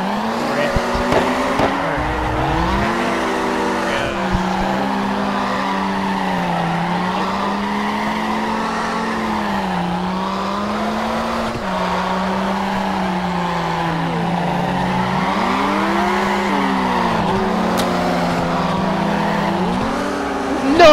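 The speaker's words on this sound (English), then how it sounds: "Ooh, that was too much angle to that drift." A car drifting in the Initial D video game, its engine droning continuously with sweeping pitch changes as tires squeal through long slides, loud and close without a break.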